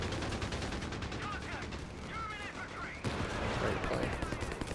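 Company of Heroes 3 battle gunfire as a grenadier is hit with a canister shot shotgun ability, amid a rapid clatter of rifle and machine-gun fire; dense, continuous shots under faint battlefield noise.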